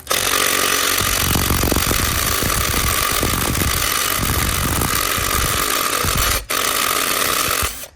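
Loud, continuous power-tool whirring and rattling while 8 mm valve cover bolts are loosened on a 2018 Toyota Camry 2.5-liter, running almost without pause with a brief dip near the end.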